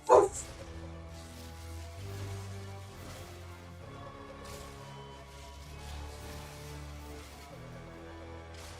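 One sharp, fairly loud dog bark opens the clip, then layered video game music with sustained low tones carries on alone for the rest.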